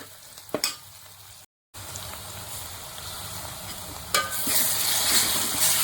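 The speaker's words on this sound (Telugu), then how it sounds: "పేస్ట్ కూడా బాగా ఫ్రై అయిపోయే వరకు మనం ఫ్రై చేసుకోవాలి" Ginger garlic paste fries with browned onions in a pan for a mutton gravy curry, a close continuous sizzle broken by a short silent gap, then a louder, brighter hiss as stirring resumes and the frying intensifies.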